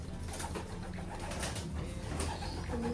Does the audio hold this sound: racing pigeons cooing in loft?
yes